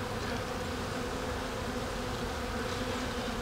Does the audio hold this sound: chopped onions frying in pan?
no